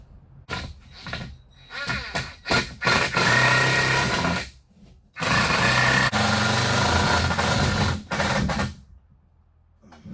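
A power drill whirs in several loud bursts of varying length, separated by short pauses, as screws are driven into wood close by while building a milking stand.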